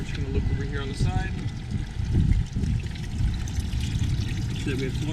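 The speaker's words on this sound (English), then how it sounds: "So that we have water flow." Water pours and trickles steadily from the air conditioning pump outlet on the side of a 2019 Axopar 28 boat, over a low background rumble, with a voice speaking nearby.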